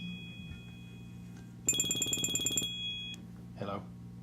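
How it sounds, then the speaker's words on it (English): A phone rings once with a bright electronic trill for about a second, over a low hum, followed by a brief voice. "phone's ringing"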